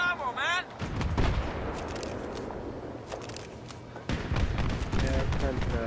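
RPG rockets fired at the player in Battlefield 3 Conquest, heard as two loud, close blasts about three seconds apart with rumbling tails, while someone talks over them.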